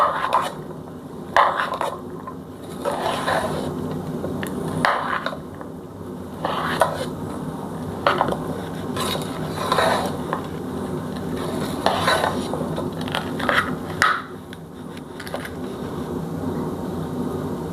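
A spoon stirs pani puri masala in a bowl, repeated scraping and clinking strokes in an uneven rhythm, close and fairly loud, with no talking.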